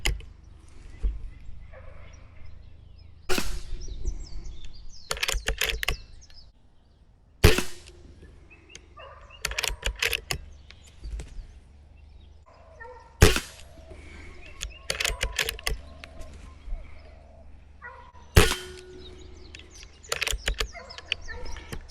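An Air Venturi Microstrike air pistol fires several single shots, sharp close cracks spaced a few seconds apart, with faint clicks and handling noises in between and birds calling in the background.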